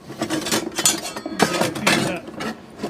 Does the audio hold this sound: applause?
no